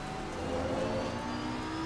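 A race car passes close by at Suzuka Circuit in an online racing league game. The engine gives a steady whirring drone that swells slightly and then holds level.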